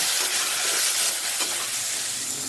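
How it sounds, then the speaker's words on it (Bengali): Bitter gourd rings sizzle steadily in hot oil in a home kitchen, a dense, continuous close-up frying hiss with faint stirring and no talking. "চারটে উচ্ছেকে এভাবে গোল গোল রিং করে কেটে নিয়েছি এগুলোকে লাল লাল করে ভেজে নেব"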